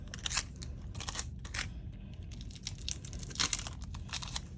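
A small piece of tape is torn off a roll in a few quick, faint crinkling rips, with soft handling noise between them.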